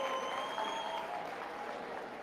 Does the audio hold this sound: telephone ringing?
no